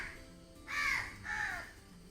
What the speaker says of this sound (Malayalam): 10-25 കാക്കകൾ ഇപ്പോൾ വന്നു കഴിഞ്ഞിട്ടുണ്ട്